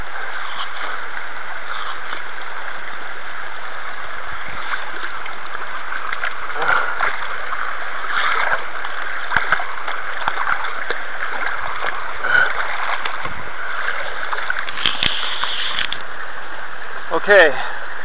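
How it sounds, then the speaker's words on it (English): Model 625 hand dredge pumping water and gravel through a gravity concentrator while prospecting, a steady rushing, splashing water flow that runs continuously and close by, with a few brief louder splashes and no speech. "The model 625 can really pump a lot of material through."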